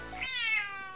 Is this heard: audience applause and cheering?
no